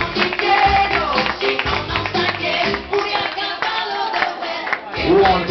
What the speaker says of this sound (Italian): Ecco qua, togliamoli con un applauso,